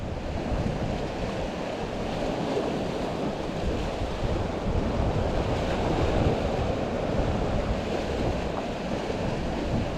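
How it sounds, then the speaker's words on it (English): Strong wind buffets the microphone while waves wash against rocky Cornish shoreline, a constant loud roar of surf and gusts with no pauses or voices. "It's just a little bit cold, that wind."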